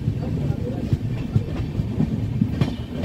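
Howrah-Patna Janshatabdi Express running between stations toward Durgapur, a steady low rumble with faint rhythmic clickety-clack of wheels on rail joints, heard from inside the carriage.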